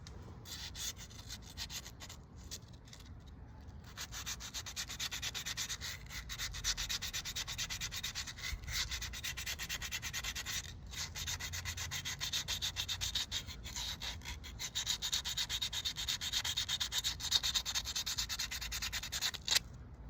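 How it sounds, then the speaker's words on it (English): Hand sanding of a 3D printed wheelchair rear axle part, a steady close scratchy rubbing that runs without pause for the whole stretch, growing slightly louder toward the end, with no talk. "I don't think you want to sit and watch me sand this shit for, you know, hours."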